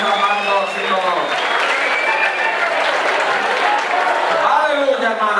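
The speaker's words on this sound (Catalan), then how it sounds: "Sí, señor, aplaudid fuerte" A theatre audience applauds at the end of a show, a dense, steady wash of clapping throughout with a voice calling out over it.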